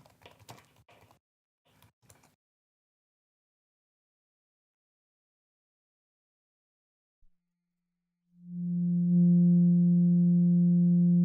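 After a few faint clicks and long silence, a smooth, pure low synth sine tone through a low-pass filter fades in and holds steady, soft and mellow with no talking.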